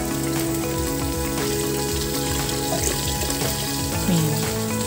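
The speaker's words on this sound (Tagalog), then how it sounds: "Lagyan natin siya ng 2 cups na tubig." Two cups of water pour into a cooking pan holding broth for a sauce, a continuous splashing and bubbling gush that runs steadily throughout, close and loud.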